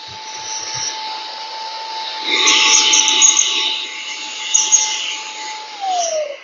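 Compressed air from a workshop air duster blasting through a small nozzle to clear out tool vents, a steady loud hiss that swells midway and tapers off near the end, with no voices.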